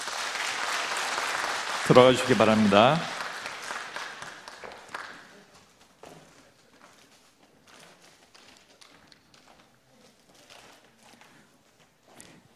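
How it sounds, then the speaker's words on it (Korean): Church congregation clapping at a Sunday service, a burst of applause around two to three seconds that fades into scattered claps and faint footsteps, with a voice speaking over the room. "은퇴협동 권사님께서 인사하실 때 큰 박수로 마음을 표해 주시기 바랍니다"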